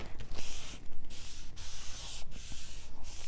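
Paper being burnished down along scored lines on a handmade Christmas mini album, a soft rasping rub repeated in several short strokes, close and fairly quiet with no talking.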